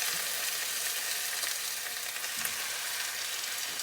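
Chicken thighs fry in very hot oil, giving a dense, steady, close sizzle and spatter that runs for the whole stretch with no voices.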